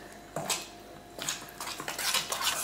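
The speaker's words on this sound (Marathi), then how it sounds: "हो सगळो मसाला आमी मिक्स करूया." Fish tikka marinade masala of spice powders, lime juice, salt and mustard oil being mixed in a bowl, heard as a few close, short bursts of spoon scraping and clinking against the bowl between quiet gaps.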